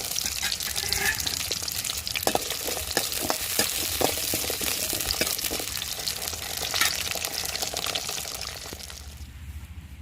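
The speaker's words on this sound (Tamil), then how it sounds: "சின்ன வெங்காயம் நம்மளுக்கு நல்லா வதங்கிருச்சுங்க" Shallots, green chilies and garlic frying in a pan, a loud, steady sizzle with intermittent clicks from stirring that holds for several seconds before fading near the end.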